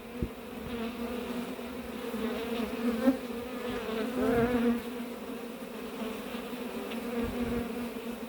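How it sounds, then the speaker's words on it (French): A honeybee swarm enters a hive during hiving, giving a steady, close buzzing drone with wavering pitch, a few individual bees flying past and swelling louder at moments. "Dès que j'ai mis la ruche contre l'autre ruche, 2 abeilles sont rentrées, après 10 abeilles, et maintenant toutes les abeilles."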